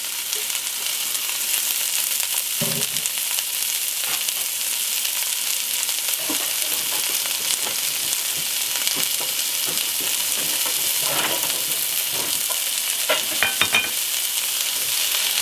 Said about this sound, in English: I'm going to throw in my onion.